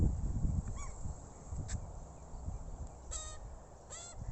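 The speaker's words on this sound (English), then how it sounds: "Oh, there's a magpie." A few harsh, rattling magpie calls at moderate distance over low background rumble and rustle, coming in short bursts, in late spring.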